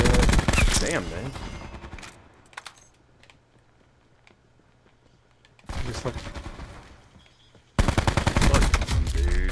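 Gunfire in Call of Duty Blackout, sharp bursts of rapid shots near the start and again in the closing seconds, loud and close, separated by a quieter stretch with faint clicks.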